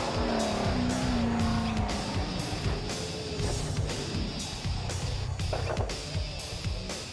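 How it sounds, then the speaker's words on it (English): A Top Sportsman drag racing car at Sydney Dragway crashes dramatically, with a loud engine roar and squealing, skidding tires, followed by rough broadband bursts that fade slightly. "the bad luck in Top Sportsman continued, with Dallas White also having a dramatic crash"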